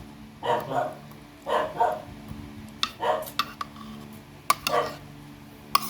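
A dog barks at a stranger, giving a few loud, separate barks in short bursts spread across the stretch, close by with faint background clicks.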